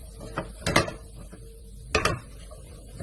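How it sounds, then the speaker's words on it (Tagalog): Flour being stirred into olive oil in a pan for gravy: a few scraping, clinking strokes of a utensil against the pan, separated by quiet pauses. "Halu-haluin lang natin yan hanggang mag-brown."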